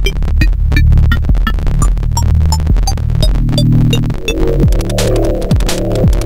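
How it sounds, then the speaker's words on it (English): Chiptune track made in nanoloop, with a buzzy, distorted noise channel driving a loud, looping pattern of repeated clicks and low throbbing tones. "And this is where the double noise effect comes in."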